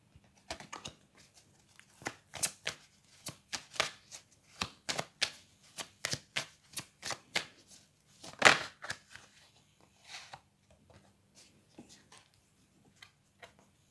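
A deck of tarot cards is shuffled and cards are drawn, giving quiet close slaps and flicks in irregular bursts with soft riffling and a few sharper snaps, separated by brief pauses.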